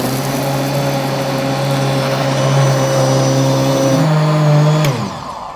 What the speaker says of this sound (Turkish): Ve blender'dan geçiriyoruz.